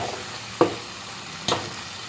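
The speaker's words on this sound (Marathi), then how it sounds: "तेल सुटेपर्यंत आपल्याला आता हे परतून घ्यायचं." Mutton masala is sautéed in oil for a village-style Marathi mutton dish. A faint, steady sizzle runs underneath two distinct spoon scrapes spaced about a second apart.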